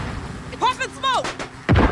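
Gunfire in Call of Duty Modern Warfare co-op on PS4: a few sharp shots and a heavier blast near the end, mixed with in-game voice callouts.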